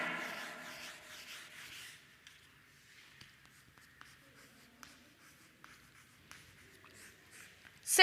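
Marker or chalk scratches across a classroom board during a subtraction lesson, soft rubbing strokes with small taps between them, quiet apart from a louder burst at the start.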